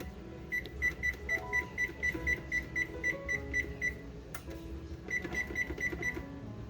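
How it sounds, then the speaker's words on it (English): An oven timer beeps while banana bread bakes, a loud run of rapid, evenly spaced electronic beeps, a short pause with a clatter, then another short burst of beeps, over kitchen background noise. "So our timer went off again."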